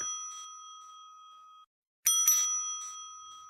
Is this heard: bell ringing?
yes